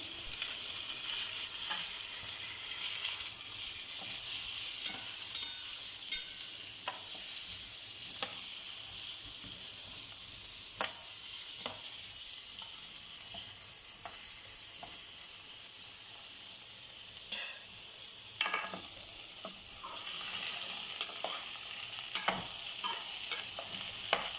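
Beetroot and mixed vegetables, seasoned with chilli powder, sizzle and fry steadily in a pan while being stirred, with intermittent scraping clicks from the spoon over a constant hiss. No one speaks.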